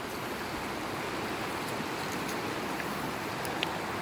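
A river on Mt. Hood rushes in a steady, broad hiss of flowing water, close and unbroken for the whole stretch with no voices.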